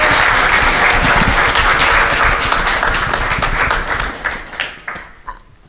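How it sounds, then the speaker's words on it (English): Audience applause fills a game developer discussion panel at MAGFest, a dense sustained clapping from a crowd that holds steady for several seconds, then thins into scattered last claps before fading out. "we should give Trinidad a round of applause too"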